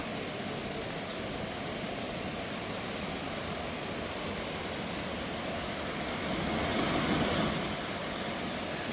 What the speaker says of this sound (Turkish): nehir akıyor